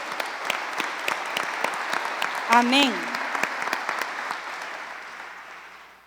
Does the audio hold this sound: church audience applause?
yes